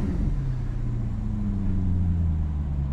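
A 2004 Maserati Coupe Cambiocorsa with a Ferrari engine idles steadily after warming up, giving a low, even rumble with a faintly wavering tone, heard close to the rear of the car with no talk.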